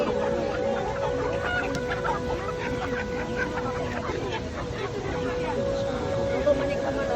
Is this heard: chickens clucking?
yes